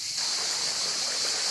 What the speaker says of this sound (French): c'est l'eau de la cascade qui tombe là dans un bassin